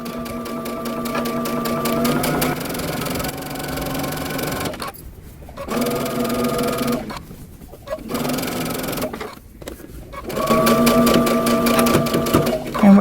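Sewing machine stitching around the pocket of a long coat, a steady loud whir with a few brief pauses, running alone.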